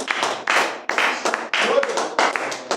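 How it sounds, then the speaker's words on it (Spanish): A church congregation claps in uneven bursts during a Wednesday worship service, hands striking in quick rhythmic clusters with short pauses between, fairly close and moderately loud. "Dar un aplauso al Rey"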